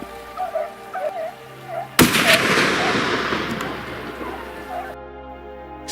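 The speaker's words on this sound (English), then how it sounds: "One clean shot after another echoed through the silence." A single sharp gunshot cracks out while hunting wild boar in still mountain air, followed by a long rolling echo that slowly fades. Faint chirping sounds come before it.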